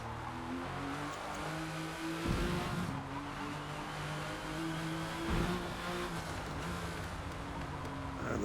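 A 1998 Porsche GT1 race car lapping Hockenheim in the Forza Motorsport video game: a loud, sustained engine drone with rising gear tones, two sharp shifts or bumps marking brief surges, and no talk over it.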